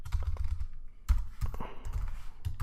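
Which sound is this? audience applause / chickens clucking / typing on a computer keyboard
typing on a computer keyboard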